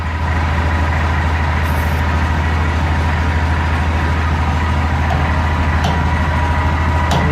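A 10 kW, 250 rpm generator with a big flywheel runs nearby, producing a loud, steady low-pitched engine drone and hum with constant rhythm, plus a few faint clicks, without talk.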